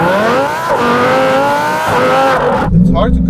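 A Lamborghini Huracán Performante's engine screams at high revs, loud and close, its pitch climbing in sweeps before cutting off abruptly near the end, with a voice audible underneath.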